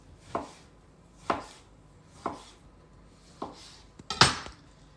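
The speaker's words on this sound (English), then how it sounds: "sometimes it's nice to make it pretty with maybe some tomato slices" A knife cuts through tomatoes on a cutting board, giving five distinct thunks spaced about a second apart with the last one doubled and loudest, close and clear with no talking.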